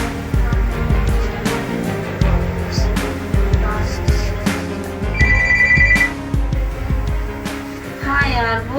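A telephone rings with a short electronic trill near the middle, heard under a busy mix of music and people talking.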